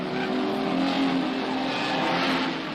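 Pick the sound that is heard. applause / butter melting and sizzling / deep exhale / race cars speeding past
race cars speeding past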